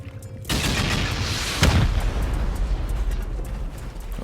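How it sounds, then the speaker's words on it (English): Rockets fired at a base during a Rust raid, a sudden loud blast followed by a heavier explosion and a long rumbling, crackling tail. "Try to rocket out the complete edge of the base."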